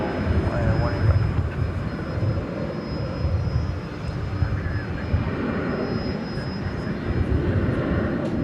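A jet airplane departing DFW Airport produces a loud, steady broadband engine roar with a thin high whine, heard continuously at close-to-moderate distance with faint voices in the background.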